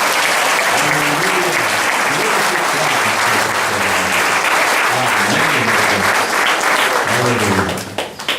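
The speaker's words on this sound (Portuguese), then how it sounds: "Podemos aplaudir o Senhor outra vez?" A church congregation applauds during a worship service, loud sustained clapping with voices singing and calling out over it, tapering off at the end.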